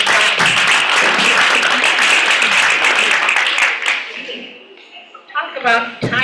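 A crowd at a general residents' meeting breaks into loud, sustained applause for about four seconds, which then fades to scattered claps and quiet room murmur.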